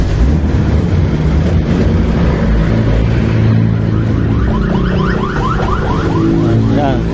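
A Toyota 5K car engine, adjusted with a timing light, runs loud and continuous close by, with some varying chirps laid over the steady drone and occasional speech beneath it.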